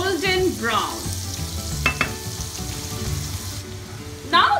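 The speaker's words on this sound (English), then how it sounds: "We need to fry them till they're golden brown" Paneer cubes fry in oil in a pan for dahi paneer, giving a steady close sizzle with a few clinks and scrapes of stirring.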